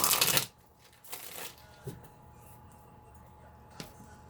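A quick riffle of cards being shuffled, followed by a few soft taps and card clicks in a quiet room.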